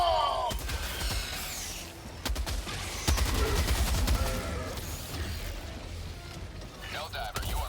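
A heavy machine gun fires in the video game Helldivers 2, with bursts of rapid gunfire and sharp impacts over a loud battle backdrop. A voice talks over the shooting.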